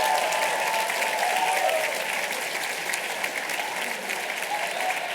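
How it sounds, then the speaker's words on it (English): Audience at a medical and dental school class day ceremony applauding the faculty, a dense sustained clapping from a large crowd filling the hall at an even level throughout. "How about a round of applause for the faculty who talked to you over here?"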